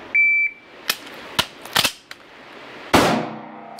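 A shooting shot timer gives a short sharp beep, followed by a few dry mechanical clicks and clacks from a handgun being manipulated during a malfunction drill, then a louder sharp snap near the end.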